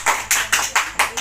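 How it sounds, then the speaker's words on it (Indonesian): A classroom of students claps for Angel in a short burst of about six evenly spaced, fairly close hand claps, quick and rhythmic, with no talk over them. "Tepuk tangan dulu untuk Angel."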